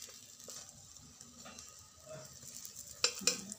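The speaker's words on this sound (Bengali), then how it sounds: "দু পিঠ সুন্দর ভাজা হয়ে গেছে দেখুন" Egg toast fries quietly in a pan, a faint, thin sizzle with a couple of sharper utensil clinks near the end, no talking.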